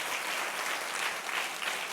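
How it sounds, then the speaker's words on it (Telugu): Loud, steady applause from a church congregation during a sermon, many hands clapping at once in a thick, continuous roar that holds even throughout the short moment. "కొట్టండి ఒకసారి, గట్టిగా చప్పట్లు కొట్టండి ఒకసారి."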